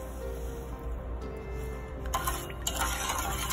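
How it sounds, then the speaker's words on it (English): Water pours and splashes into a pot with added sugar for jalebi sugar syrup, a quiet, steady trickle that grows brighter and louder toward the end. "So this is water and we're adding sugar."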